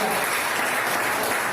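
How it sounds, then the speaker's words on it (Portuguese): A church congregation claps together in sustained, dense applause filling a short stretch at steady loudness, with no voice rising above it. "Você pode aplaudir o Senhor."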